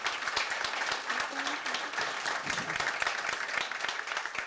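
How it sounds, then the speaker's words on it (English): An audience at a banking panel event applauds the panelists with steady, moderately loud clapping from a crowd that continues throughout. "So please, a big round of applause for all the panelists"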